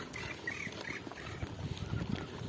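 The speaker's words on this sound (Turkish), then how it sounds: "Gölde karşıda bakın martılarla dolmuş bir göl çok güzel." Gulls call from across a lake in Malatya, a few faint, nasal squawks rising over steady outdoor wind noise and a distant low rumble, with no one speaking.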